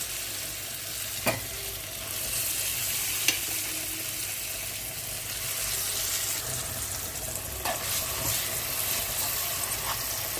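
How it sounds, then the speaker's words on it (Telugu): Tomato chutney frying in oil in a pan, with a steady close sizzle under intermittent stirring scrapes and a few sharper knocks of the spoon against the vessel, no voices. "నూనెలో వేసేద్దాము పచ్చడి."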